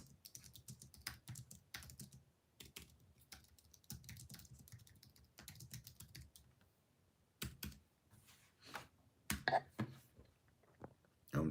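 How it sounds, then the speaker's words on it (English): Someone types on a computer keyboard close by, a run of quick irregular key clicks with brief pauses and a few sharper, louder taps near the end. "I'm typing down all y'all suggestions."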